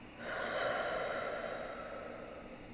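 A person breathing during a meditation takes a long, steady breath that is soft and airy. It swells near the start, then slowly fades over a couple of seconds, close and alone without speech.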